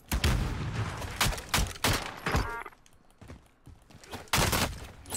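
Gunfire in the Call of Duty Warzone video game: a rapid series of loud, close shots in bursts, pausing midway before a final volley, with no speech over it.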